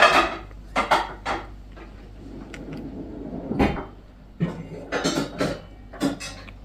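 A utensil scraping and spreading a chilled biscuit dessert layer in a dish, with irregular clinks, taps and scrapes against the dish, fairly close and clear.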